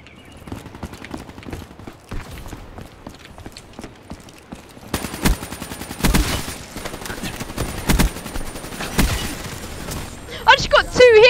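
Gunfire in the shooter game Call of Duty Black Ops, with repeated sharp shots and rapid bursts that grow denser and louder from about halfway, mixed with other busy game sounds.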